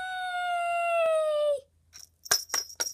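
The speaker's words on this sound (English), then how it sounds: "Arnie, there's a random dog over here" A single dog gives one long, drawn-out howl that slowly falls in pitch and then stops, followed by a few sharp yelps or clicks nearby, with no talking.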